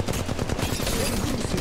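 Dense, close automatic gunfire from Apex Legends Mobile, rapid machine-gun bursts hammering continuously and loudly with a faint voice underneath.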